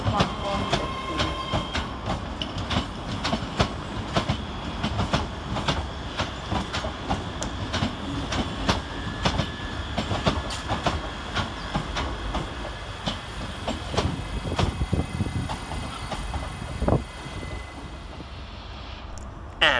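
ScotRail Class 385 electric train pulling into Edinburgh Waverley station, a steady rumble with repeated wheel clicks and clanks across the platform for the whole stretch, faint station sounds behind.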